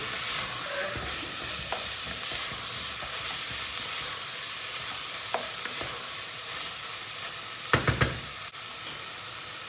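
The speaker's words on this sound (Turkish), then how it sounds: "Salçayla beraber 2-3 dakika bir kavrulsun." Steady sizzling and frying of chopped peppers and tomato paste in a hot pan over high heat, with a few soft scraping stirs and brief clatters, no voices.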